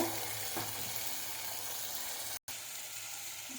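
Semiya vermicelli fries in hot oil with a steady, close sizzle that continues after hot water is poured in, broken by one brief silent gap.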